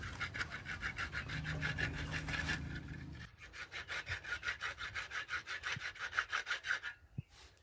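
A stiff brush scrubs a limping mare's hoof clean. Close, rhythmic rasping strokes go back and forth at a steady pace, pausing briefly partway through.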